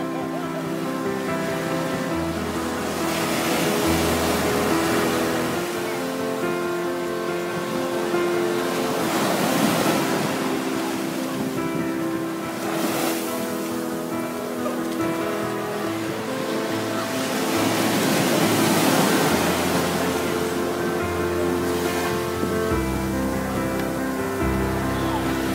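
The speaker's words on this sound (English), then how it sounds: "The sand is so beautiful. The sea, the waves." Ocean waves break on the sand at Nags Head beach in a continuous roar of surf that swells in slow surges every few seconds, steady and close throughout, under a faint tonal background layer.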